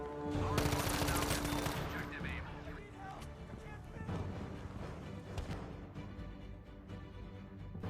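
Rapid, dense automatic gunfire from the M2 Carbine in Battlefield 5, a sustained loud burst of shots that fills the whole stretch with crashing reports and echoing combat noise.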